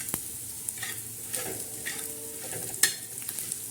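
Black masala spices roast in a pan with a soft, steady sizzle, broken by intermittent scraping stirs and one sharper clink partway through.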